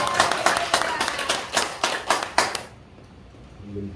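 Congregation in a church clapping together in a quick, steady rhythm of hand claps, fairly close and loud, stopping abruptly after a few seconds, followed by near silence with a faint low hum.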